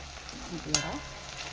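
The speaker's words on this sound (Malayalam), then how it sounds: "ഉള്ളി നല്ലോണം വെളിച്ചെണ്ണ കിടന്ന് മൂത്ത് വന്നിട്ടുണ്ട്" Onion and crushed chili fry in coconut oil for a jackfruit stir-fry, giving a brief, steady low sizzle with one quick stirring scrape in the middle.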